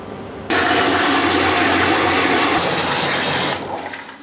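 Water gushes loudly and steadily into a sterilizer holding canning jars, a full rushing pour that starts abruptly, runs for about three seconds, then stops and leaves a softer trickle.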